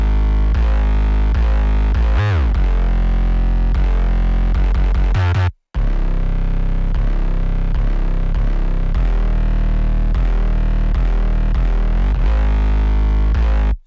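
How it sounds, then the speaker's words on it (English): A trap metal 808 bass pattern for the main drop, with loud distorted low notes and pitch slides gliding between them, a brief gap about midway, then the pattern continues. "this is my second 808 pattern, which is for the main drop"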